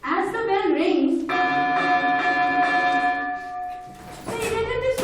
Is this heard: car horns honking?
no